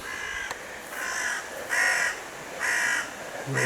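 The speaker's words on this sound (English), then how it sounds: "There's the crow." A crow caws repeatedly outdoors by a river in Denbigh, five or so harsh calls spaced about a second apart, moderately near and clear over a soft wash of flowing water.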